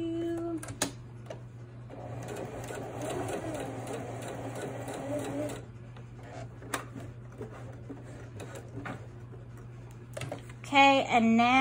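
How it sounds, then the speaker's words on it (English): A domestic sewing machine stitches a sleeve placket in bursts, a steady whirring run of a few seconds followed by short stops and starts, with fabric handling and soft clicks between stitching passes. "you want to leave your needle down, raise the presser foot, and then pivot the fabric"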